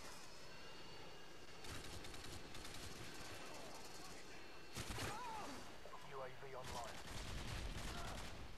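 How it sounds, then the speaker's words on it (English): Minigun fire from a Harrier jet in Modern Warfare 2 multiplayer on the Favela map, loud ripping bursts that come and go over a steady jet engine drone, with someone talking over the action. "I love hearing that sound when that minigun hits somebody."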